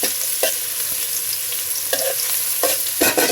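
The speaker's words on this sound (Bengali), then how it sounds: "তেল দিয়ে দিলাম, পেঁয়াজ কুচি দিয়ে দিলাম, দুটো তেজপাতা দিয়ে দিচ্ছি" Onion and two bay leaves sizzle steadily in hot oil in a pan while cucumber curry is started, a constant broadband hiss broken by a few sharp stirring scrapes.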